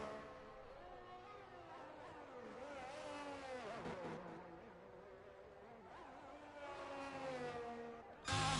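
A Ferrari race car on a flying lap in a racing video game, its engine droning steadily with rising and falling revs through gear shifts, heard from onboard at a constant, moderate level.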